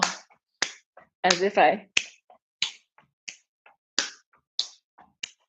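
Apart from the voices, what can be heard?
hand clapping during a step-clap exercise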